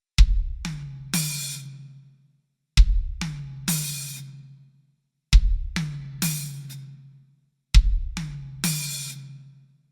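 Four repeated drum triplets ring out alone, each a bass drum thump, a high tom hit and an open hi-hat that quickly closes, evenly spaced with clear pauses between groups.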